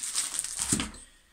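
A two-way radio, a Baofeng UV-5R, is handled in a thin polyethylene bag, giving short close crinkles and rustles with a soft thud midway before it quiets down.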